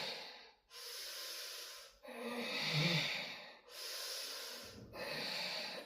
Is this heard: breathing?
yes